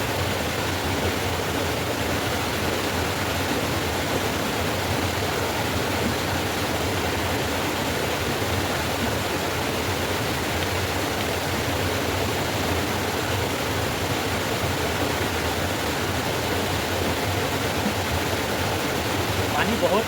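A mountain waterfall in Uttarakhand pours in a steady, dense rush of broadband water noise, close and loud, unbroken for the whole stretch with no talk over it.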